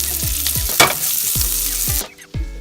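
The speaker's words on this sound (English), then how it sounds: "Let it sizzle" Teriyaki stir fry with garlic sizzles steadily in a hot pan, a loud continuous crackle broken by a few scraping stirs of a utensil, then quieting as the heat is cut.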